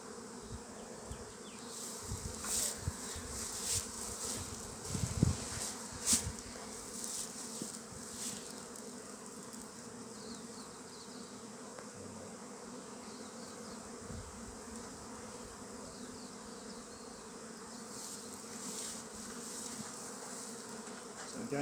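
Honey bees buzzing around an opened hive frame at Maungatautari, a dense continuous hum with occasional louder passes as individual bees fly close.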